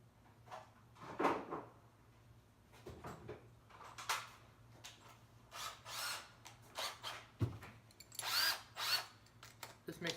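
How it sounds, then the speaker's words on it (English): A power drill works on bolts of a semi-hermetic compressor, with several short bursts of whirring and clanks of metal parts and handling noises in between. "I'm gonna get the drill now."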